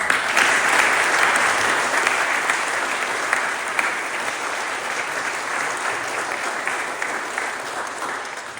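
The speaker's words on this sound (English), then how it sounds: "Please join me in a round of applause." Sustained, steady applause from a seated audience at a school hall of fame induction ceremony, dense and even throughout before easing slightly toward the end.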